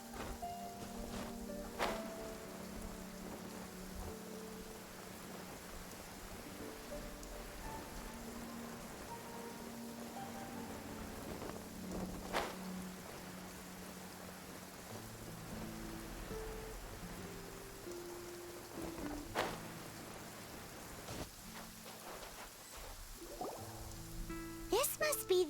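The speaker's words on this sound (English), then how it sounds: "And of course it's raining." Rain falls steadily in Genshin Impact, a soft, continuous patter of drops heard faintly beneath game music and occasional talk.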